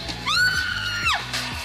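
A woman lets out one loud, sustained high-pitched scream at a coffin challenge event at Six Flags Fiesta Texas, with crowd noise and a low music beat underneath.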